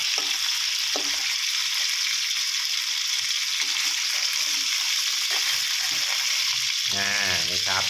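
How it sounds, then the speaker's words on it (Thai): An egg is stir-fried in a hot pan for dry chicken suki with glass noodles, producing a loud, constant hiss of frying with a few soft scrapes and a brief warbling tone near the end. "ค่อยๆ ผัดไปนะครับ ให้ ไข่เขาเซ็ตตัวนะครับ โดนความร้อนนะครับ"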